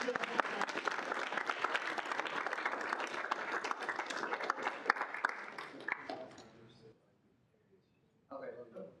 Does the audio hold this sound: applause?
yes